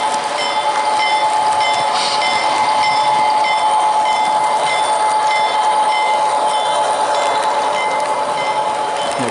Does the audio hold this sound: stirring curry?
no